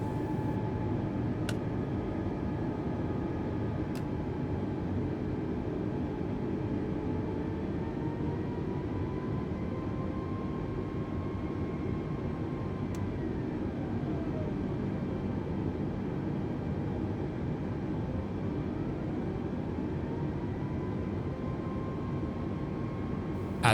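Steady whine and low rumble of an Airbus A320's APU left running in Microsoft Flight Simulator 2020, a constant drone with faint shifting tones and no talk.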